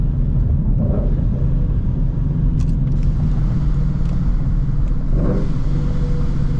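Supercharged Ford Mustang Mach 1 engine droning loud and close from inside the car while driving, with a steady low rumble and a couple of brief rev rises from rev-matched downshifts.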